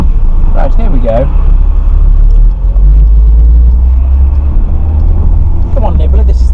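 A motorcycle nicknamed for its small size pulls onto a main road, its engine rumbling loudly and steadily up close with a deep low drone throughout, while brief voices break in near the start and end.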